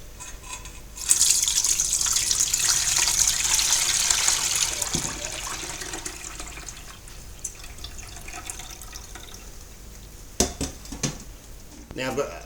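Cold-steeped grain liquid strained into a pot, a steady close pouring and splashing of liquid for several seconds that tapers off, followed by a few sharp knocks of a pot or utensil.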